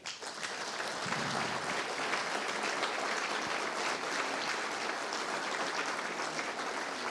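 Sustained applause from the audience at a 2007 memorial ceremony for Plečnik in Komenda, a dense, steady wash of clapping that holds at an even level throughout.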